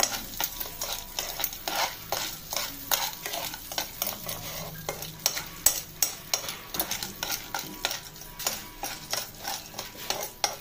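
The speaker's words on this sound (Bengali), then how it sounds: "এবং হালকা করে নাড়তে থাকবো।" Soaked corn kernels are stirred in a hot wok, making rhythmic scraping and rattling strokes over a light sizzle, close and repeated throughout.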